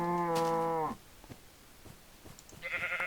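A Minecraft cow gives a loud, close moo for almost a second, then a quieter second animal call follows near the end after a short lull.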